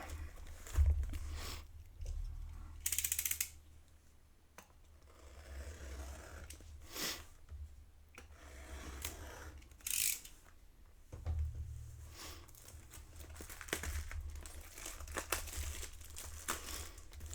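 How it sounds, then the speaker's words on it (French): Opening a Yu-Gi-Oh Blue-Eyes White Dragon 25th Anniversary booster box with a box cutter: crinkling and tearing of cardboard and wrapping comes in repeated bursts over low rumbling handling noise. "Je crois que c'est la première fois que j'ouvre une boîte avec un cutter."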